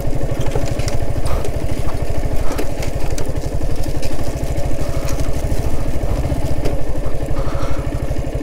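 A motorcycle rolls across a bamboo bridge in Majuli, Assam, its engine putting out a steady, loud, rapid low thrum with clattering from the bamboo slats underneath, with no pauses the whole way.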